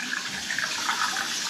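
Shower water pours steadily into a bathtub during drain unclogging, a loud continuous hiss and splash that stays close and even throughout with no voices.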